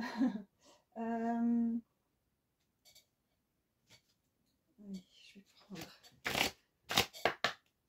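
Tarot cards being shuffled up close in several quick, crisp riffling bursts near the end, after a short hummed or voiced tone and some quiet handling sounds.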